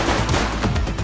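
A short burst of gunshots in the police video game The Precinct, loud and close, with a couple of sharp cracks over a dense noisy backdrop.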